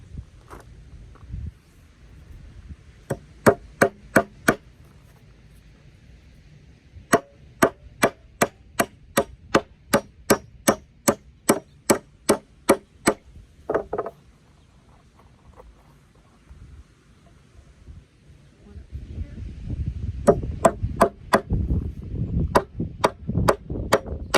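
Rapid bursts of hammer strikes driving nails into wooden boards for a raised garden bed, each blow ringing with a bright metallic ping, in several runs separated by short pauses.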